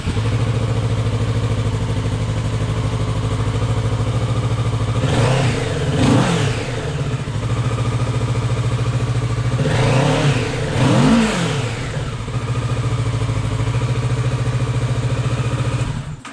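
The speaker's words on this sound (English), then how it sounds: "let's get a before sound on how this bike sounds cold" A cold 2022 Kawasaki Ninja 650 with its stock exhaust idles loudly up close, then is blipped twice in quick pairs of revs that rise and fall before settling back to a steady idle.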